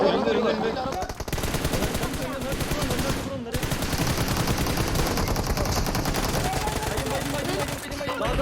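Loud, dense gunfire from a PUBG Mobile tournament match, rapid automatic bursts rattling almost continuously, briefly dropping out around the midpoint before resuming, with players shouting over it.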